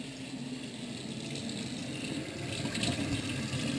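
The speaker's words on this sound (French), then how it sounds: "je rajoute de l'eau chaude" Hot water poured from a vessel into a pot of squid stew, a continuous splashing gush that grows slightly louder and fuller toward the end, close by.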